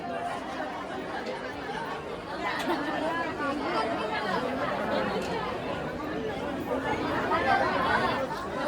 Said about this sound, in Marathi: गर्दी आहे. लाईनीत आम्ही बसलोय.